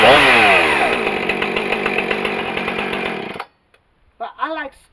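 A Husqvarna 455 Rancher 20-inch chainsaw runs loud and close, its pitch falling as it revs down and then cutting out, before a voice speaks briefly in the silence.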